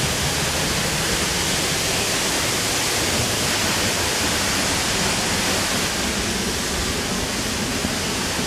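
Henrhyd Falls in South Wales, with water plunging into its pool and throwing spray, makes a loud, steady, close roar of rushing water with no break.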